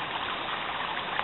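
A creek flows along a hiking trail, giving off a continuous, even rush of water that stays close and steady with no speech.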